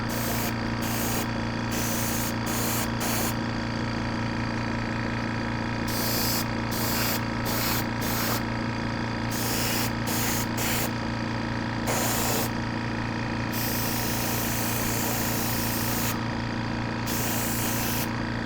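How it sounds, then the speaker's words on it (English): Primer sprayed from a can or airbrush onto a 1/700 scale Trumpeter USS Wisconsin model warship, a steady close hiss broken by short pauses between bursts over a constant low hum. "you don't want to come in here and spray this on way too heavy"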